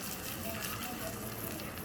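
Mustard seeds, curry leaves and chillies tempered in a spoonful of sweet oil sizzle as they are poured over aviyal, a steady, fairly close hiss and crackle that holds evenly for the whole moment.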